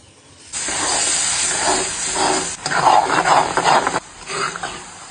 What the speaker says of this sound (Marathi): आता आपण दूध घालून हे पीठ फुलवणार आहोत